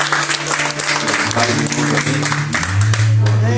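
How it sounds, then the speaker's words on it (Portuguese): A church congregation claps steadily during a worship service while sustained singing or musical tones ring over it, fairly loud throughout. "Aplauda o Senhor que nos dá essa oração"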